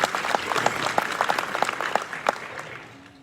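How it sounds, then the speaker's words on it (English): Audience at the Forum on American Enterprise applauding, with a scattering of distinct individual claps over a softer crowd wash that tapers off near the end. "You can clap on that too."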